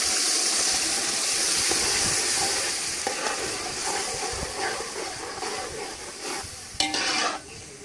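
Fresh tomato paste frying in a pot for jollof rice, a loud continuous sizzle and bubbling spatter that eases slightly over time, with a brief clatter near the end.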